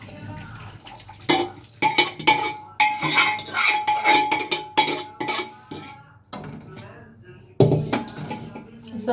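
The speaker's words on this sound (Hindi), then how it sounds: "तो जी अब मैं छौंक रही हूँ सब्जी" Vegetables for rajma being tempered sizzle and hiss in a hot pan in uneven bursts, with metal utensils clanking and scraping against it up close.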